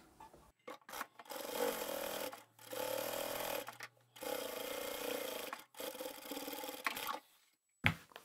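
A sewing machine topstitching a large fabric craft bag from the outside edge; four or five steady close runs of whirring stitching, each a second or so long, separated by brief pauses, ending with a sharp click.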